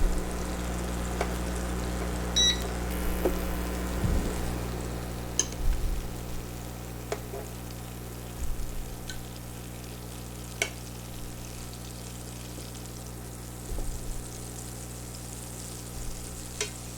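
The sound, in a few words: butter melting and sizzling in a pan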